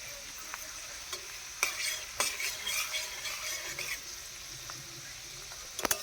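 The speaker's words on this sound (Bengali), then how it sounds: "আমি কিন্তু লো টু মিডিয়াম ফ্লেমে এটাকে ফ্রাই করছি" Chicken pakoras fry in oil over a low-to-medium flame with a soft, continuous sizzle, broken by a few sharper pops and crackles near the start and end.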